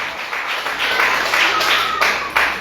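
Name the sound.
congregation clapping hands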